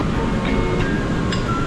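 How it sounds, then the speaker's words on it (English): Steady rumble of a moving train in India, with faint metallic clinks over the constant rolling noise and no talk. "I'm very excited about our train journey"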